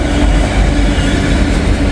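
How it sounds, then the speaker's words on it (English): A coal train rolls past on the rails, a loud, steady broadband rumble with a low roar and a continuous wash of wheel-on-rail noise through the whole stretch, close by and unbroken. "I have a train here."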